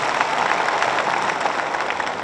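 An audience gives a loud, sustained burst of clapping to welcome senior advocate H.S. Phoolka at a political speech event, dense and even throughout.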